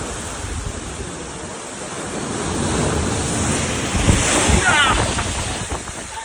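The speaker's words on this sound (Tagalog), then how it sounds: "Grabe, laki ng alon." Huge typhoon waves crash against a seawall during flooding in Manila, with a continuous roaring surf, a heavier crash near the end and strong wind buffeting the microphone.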